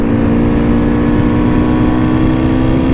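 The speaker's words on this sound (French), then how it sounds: "là je suis à 4000 tours, à 3000 tours, j'accélère, ça reprend" A 2022 Kawasaki Z900 RS 50th anniversary motorcycle engine pulling from about 3000 to 4000 rpm, a loud steady close drone with a strong low hum and no voices.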